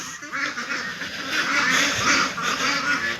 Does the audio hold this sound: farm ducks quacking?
yes